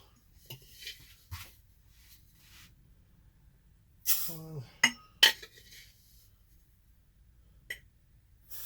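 A measuring scoop drops quinoa into a pot, making a few sharp scrapes and clinks of grain and metal against a quiet background, with one brief cluster of louder rattles in the middle.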